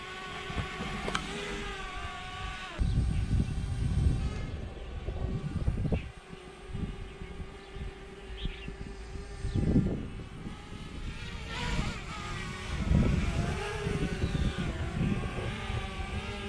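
A DJI Mavic Mini drone flies back toward its operator outdoors, its buzzing rotors rising and falling in loudness against steady background noise and occasional bumps, with no talk.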